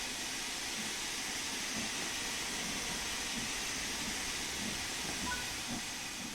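A steam locomotive in the video game Train Sim World 3 thumps in a soft, regular rhythm under a steady wash of steam hiss, with no talk.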